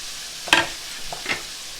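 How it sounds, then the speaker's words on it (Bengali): Boiled potatoes dropped into a sizzling spice masala, two quick clattering splashes over a soft steady frying hiss. "এর মধ্যে দিয়ে দিচ্ছি আমি সেদ্ধ করা আলুগুলো"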